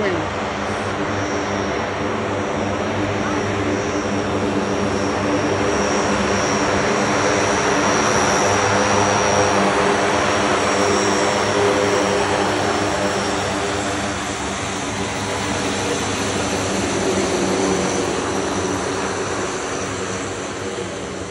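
The Blue Angels' C-130 Hercules transport plane flies over an airshow in Seattle. Its propeller-turbine engines make a loud, continuous droning roar that swells and eases slightly over about twenty seconds.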